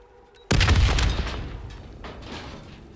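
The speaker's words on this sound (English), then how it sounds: "The explosion blocked our path." A loud explosion bursts in the Call of Duty Black Ops III video game, a single sudden boom after quiet that rumbles and slowly decays over a few seconds.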